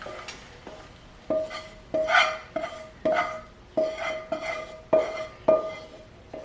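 Cooked pepper steak being scraped and stirred from a pan into a bowl, a steady series of about eight metallic scraping clanks in an even rhythm, close and clear with no talking.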